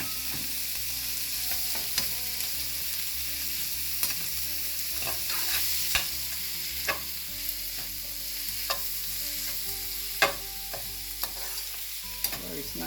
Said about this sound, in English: Then I'm going to put my chopped garlic and ginger.